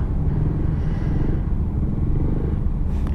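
Yamaha XMAX scooter riding along a road, a steady low engine rumble with road and wind noise, close and continuous, with no talk.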